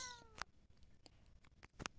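A cat meowing in the Cat Simulator video game, a short meow at the start followed by faint scattered clicks and a soft second sound near the end; quiet overall.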